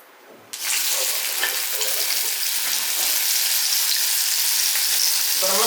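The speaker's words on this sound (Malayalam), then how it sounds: "അപ്പൊ നമുക്ക് എണ്ണ ചൂടായിട്ടുണ്ട്. അപ്പൊ നമുക്ക് മെഴുക്ക് വരട്ടി ഇട്ട് കൊടുക്കാവേ." Mezhukkupuratti vegetables for a Kerala pothichoru drop into hot oil with a sudden burst of loud, dense frying sizzle that holds steady close by, with faint stirring underneath and no speech.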